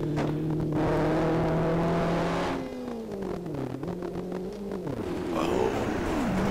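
Rally car engine revving hard on a Coffs Harbour stage, with a steady droning note that drops and swings as the car slides on gravel at the edge of the asphalt and through a junction. Loud and close throughout, with no talk.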